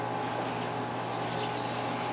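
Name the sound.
washing machine filling with water for laundry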